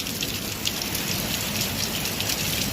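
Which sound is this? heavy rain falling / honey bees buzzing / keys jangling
heavy rain falling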